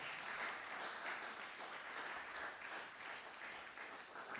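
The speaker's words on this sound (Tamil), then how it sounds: "நன்றாய் கைதட்டுங்கள் நாட்டோரே அது அழகு." An audience at a Women's Day poetry recital gives a steady round of applause, heard faint and distant with an even, continuous patter of many hands.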